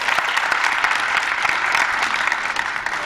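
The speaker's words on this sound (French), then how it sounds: "Est-ce qu'on peut applaudir pour les accueillir?" A TV studio audience applauds to welcome guests, a close, dense burst of clapping that stays loud and steady for about three seconds.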